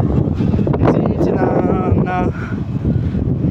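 Strong wind buffets the microphone on a walk through a village, a continuous low roaring rumble that fills the whole stretch, with voices mixed faintly into the noise.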